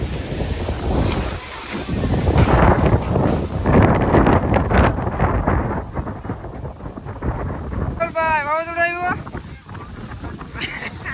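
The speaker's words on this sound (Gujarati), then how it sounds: "વાતાવરણ થઈ ગયું છે એક ધારું વરસાદ આવે એવું અને પવન છે" Strong wind roars and buffets the microphone outdoors under overcast, rain-threatening skies, a steady loud rush with gusts that ease after a few seconds, joined near the end by a brief rising and falling whistling tone.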